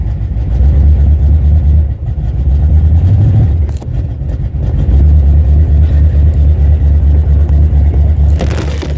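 A Chevrolet Nova's engine strains to drive out of a snow pit in low gear, a loud, steady low drone that dips and surges as it revs, close by, with no voices.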